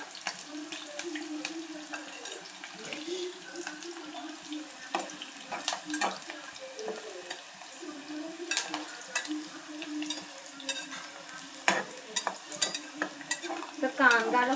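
Onion sautéing in a pan, stirred repeatedly, gives a soft continuous sizzle broken by scraping strokes and a few clinks, with faint voices in the background.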